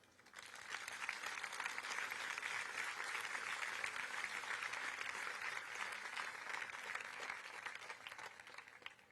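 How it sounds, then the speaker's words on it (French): A large crowd at a French political summer gathering applauds in a dense, sustained wash of clapping that swells in and holds steady for several seconds before easing off. "je crois que nous pouvons les applaudir"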